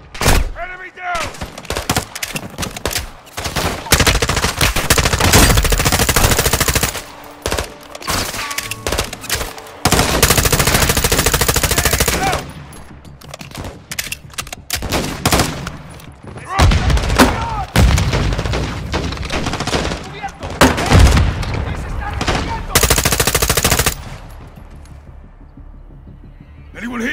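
Machine gun fire in the Call of Duty Modern Warfare 2 video game rattles in long, dense, loud bursts mixed with heavier booms, broken by short gaps, with shouted voices over parts of the fighting.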